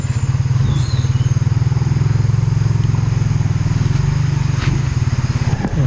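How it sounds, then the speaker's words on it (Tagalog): Motorcycles approaching along a village road: a loud, close engine drone with a steady rapid pulsing putter that holds throughout, with a faint bit of rattling. "May mga paparating bro. Oo, naka-motorsiklo."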